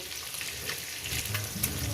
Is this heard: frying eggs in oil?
yes